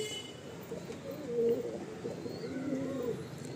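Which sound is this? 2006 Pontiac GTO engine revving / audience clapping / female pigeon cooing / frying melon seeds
female pigeon cooing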